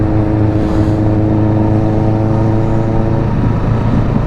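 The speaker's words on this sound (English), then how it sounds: "It sounds the business. It's an Akrapovic Z900 system." Kawasaki Z900 motorcycle fitted with an Akrapovic exhaust system, riding on the Cuith Raing pass near Glencoe: a loud, steady engine drone with a rich held tone and a slight shift in pitch near the end.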